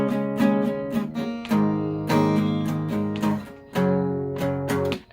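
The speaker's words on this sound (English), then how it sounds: "Except we do something a little bit fancy, and we skip the upstroke on the first 2" Acoustic guitar chords strummed in a steady rhythm, each chord ringing out, with brief gaps where an upstroke is left out. No voices.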